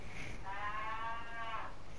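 A single faint goat bleat wavers for about a second on a farm in Farming Simulator 19, distant and soft over low background noise.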